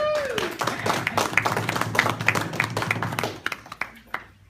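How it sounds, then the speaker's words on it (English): An audience gives a modest round of applause for Marcus at a talk, with scattered hand claps that start briskly and thin out after a few seconds, and faint voices mixed in underneath. "A round of applause for Marcus."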